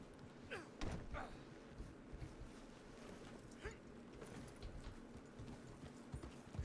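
Horse hooves clip-clop at a walk in Red Dead Redemption 2, a string of soft, irregular thuds over a busy game ambience with faint background sounds.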